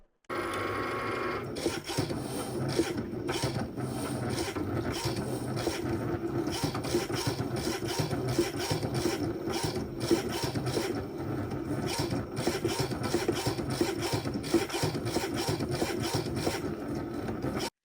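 A Cricut cutting machine drives a rotary blade through kite paper, giving a steady, quiet rasping whir with rhythmic mechanical ticks and scrapes that run close and continuous.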